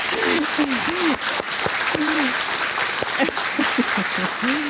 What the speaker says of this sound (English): So I feel like we should give Heidi one more round of applause.